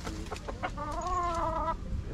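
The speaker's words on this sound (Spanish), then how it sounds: "El gallo que está en la esquina." A rooster and chickens cluck nearby, a run of short clucks followed by a longer drawn-out crowing call, loud and close with faint background noise.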